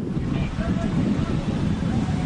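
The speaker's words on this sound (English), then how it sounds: "These are some of the most powerful winds to ever hit this area." Strong Santa Ana wind gusts roar steadily and loudly, buffeting the microphone with a constant low rumble and no clear pauses.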